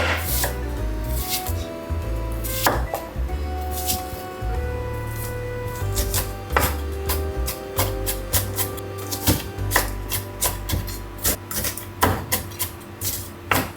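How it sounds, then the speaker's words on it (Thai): Knife cutting a large onion on a board while spaghetti cooks, giving a series of sharp, rhythmic chopping taps that speed up over steady kitchen background hum. "ผมก็จะมาหั่นหัวหอมใหญ่นะครับ"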